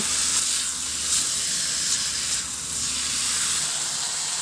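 Diced chicken breast cubes frying in a pan for creamy spaghetti, a steady close hiss and sizzle running unbroken without talk.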